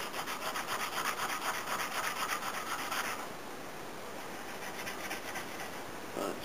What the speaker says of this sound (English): I can also do it here on the bolster to polish it up a bit, or start to polish it up